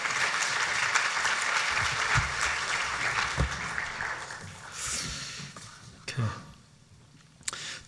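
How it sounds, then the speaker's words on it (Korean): A church youth-service congregation claps steadily to welcome a missionary university president to the pulpit; dense, close applause fills the first five seconds, then thins into scattered claps and fades to a quiet room with a few faint sounds. "여러분 총장님 나오실 때 여러분 큰 박수로 모시도록 하겠습니다."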